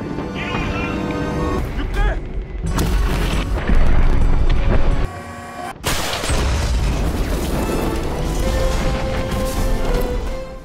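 A tank blown apart by a bazooka in a war film, a dense roaring rumble of explosion and engine noise with booming blasts, loud and sustained, partly under a voice speaking.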